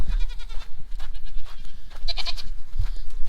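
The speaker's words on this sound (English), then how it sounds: "This is a lot of goat." Goats bleat repeatedly on a farm, fairly close and loud, several overlapping calls over a rough outdoor background with no talking.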